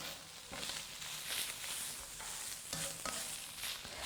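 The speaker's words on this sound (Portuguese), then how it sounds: "então aqui a gente vai saltear esse frango" Shredded chicken and crumbled fresh calabresa sausage sauté in a pan, giving a steady close sizzle with light stirring scrapes throughout.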